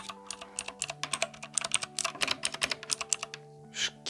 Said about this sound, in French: Juste là, on a mon clavier RGB, qui est juste magnifique. Le son, quand vous le tapez dessus,